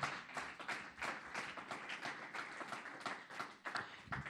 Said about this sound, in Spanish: Démosle un aplauso al que resuelve todos los problemas.